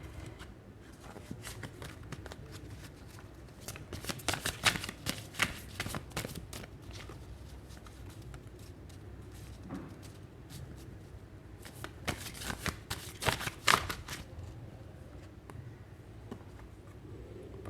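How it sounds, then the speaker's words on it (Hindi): Oracle cards being shuffled by hand at close range, with bursts of riffling and flicking in two main flurries separated by softer handling, no talking. "मैं कुछ ओरेकल कार्ड से देखती हूँ"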